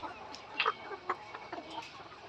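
Layer hens on a large poultry farm give a few short clucks at irregular intervals, moderately close, over a steady low hum of farm background noise.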